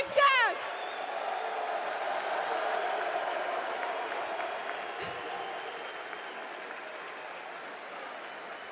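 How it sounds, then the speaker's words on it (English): Arena crowd at La Défense Arena applauds esports champions after a Call of Duty major grand final: a broad, sustained wash of clapping and cheering, steady then slowly fading, with an announcer speaking over the first moments. "un tonnerre d'applaudissements pour vos champions"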